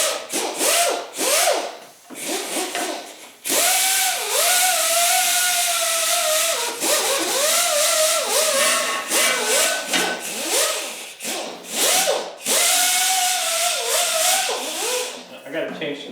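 Scraping and grinding grime off old machine parts in a workshop, a loud continuous abrasive rasp with rising and falling whines, briefly pausing between passes.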